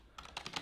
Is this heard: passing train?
no